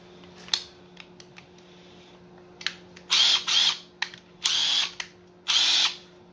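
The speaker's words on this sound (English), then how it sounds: "Got a little drill on here." A cordless impact driver with a single automatic speed runs in four short, loud whirring bursts, the first two close together and the last two spaced apart, preceded by a few faint clicks and taps.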